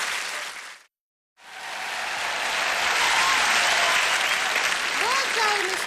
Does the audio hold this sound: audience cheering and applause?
yes